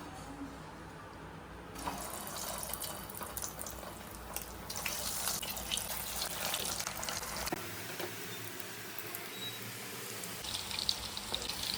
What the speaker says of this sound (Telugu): ఈ చీజ్ బాల్స్ని ఒక్కొక్కటి ఫ్రై చేసేద్దాం